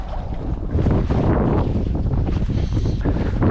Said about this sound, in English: The wind's picking up again, as we are expecting high winds again tonight,